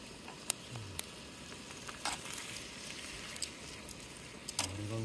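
A whole squid sizzles and crackles steadily on a grill at an outdoor campsite, a dense close frying hiss with a few sharp pops and clicks and no talking.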